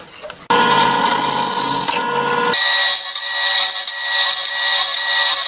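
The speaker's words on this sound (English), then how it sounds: "We're going to drill our second set, and that is going to be with a 3/16 inch drill bit" A power drill with a 3/16 inch bit whirs steadily at close range, its pitch shifting partway through as it bites into material, running continuously without pause.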